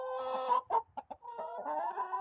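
Domestic hens cluck in a series of close, moderately loud calls, with short choppy bursts mid-way between fuller runs, in a coop during a bird-flu housing order.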